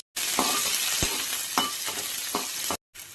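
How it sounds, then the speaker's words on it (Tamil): Small shallots, ginger and garlic frying in a little oil in a pan, a loud, close, continuous sizzle broken by a few spoon stirs and scrapes, with a brief cut near the end and no voices. "அதே பாத்திரத்தில் நம்ம சின்ன வெங்காயமும் இஞ்சி பூண்டு வறுத்து எடுத்துக்கலாம் கொஞ்சமாக ஆயில் சேர்த்துக்கலாம்"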